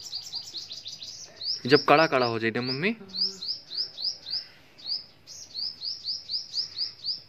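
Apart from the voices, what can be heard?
small birds chirping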